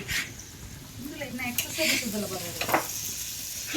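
Malpe fish frying in a pan gives a soft, steady sizzle with occasional stirring and scraping clatter, fairly quiet and close, with faint speech in the background.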